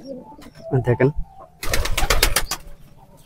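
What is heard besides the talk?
pigeon cooing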